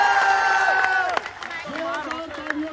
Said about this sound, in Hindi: इससे भी जोरदार तालियां आपके आदित्य रंजन सर के लिए होनी चाहिए।